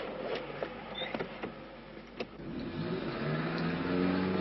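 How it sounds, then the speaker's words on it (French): A car in a 1973 driving test is started, with a few mechanical clicks and creaks before the engine catches and settles into a low, steady running hum, with no talking. "Vous mettez votre voiture en route, nous partirons tout droit."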